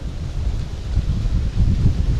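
Strong wind roars and buffets the microphone steadily, a dense low rumble with gusts swelling louder toward the end.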